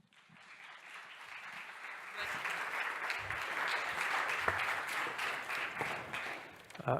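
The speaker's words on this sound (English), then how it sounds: "I would like to give you a round of applause for our next speaker." Applause for the next speaker at a data science conference session swells up from quiet into a full, sustained clapping crowd, then tapers near the end as a voice briefly breaks through.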